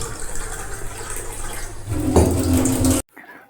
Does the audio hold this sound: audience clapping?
no